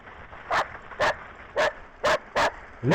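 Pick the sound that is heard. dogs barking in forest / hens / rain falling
dogs barking in forest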